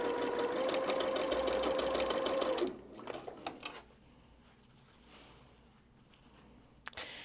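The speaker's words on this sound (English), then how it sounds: "So we're just going to start sewing." A sewing machine fitted with a quarter-inch foot stitches a quilt block, a fast, steady mechanical whir with a sustained tone for nearly three seconds, then stopping into quieter handling clicks and faint rustle.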